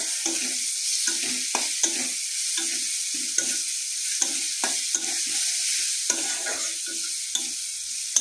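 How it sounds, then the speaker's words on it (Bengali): Chopped ginger, garlic and onion fry in a pan with a steady bright sizzle, punctuated by repeated scraping stirs of a spatula at an irregular rhythm, close and moderately loud, no voices. "আদা কুচি, রসুন কুচি এবং পেঁয়াজ কুচি একসাথে ঢেলে দিলাম। এদিকে আরও অল্প ভাজবো।"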